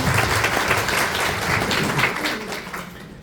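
A crowd at a motivational gathering claps loudly together in a dense burst of applause that holds steady, then begins to fade toward the end, close and full.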